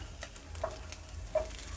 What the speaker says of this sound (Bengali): জিরেটা একটু ভাজা হয়ে গেলে আদা কুঁচোটা দিয়ে দেবেন।